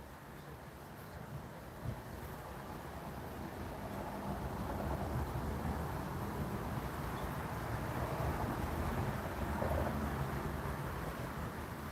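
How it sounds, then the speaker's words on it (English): Wind gusts roar against the microphone in a continuous low rumble, building slightly and staying steady throughout. "And it's windy."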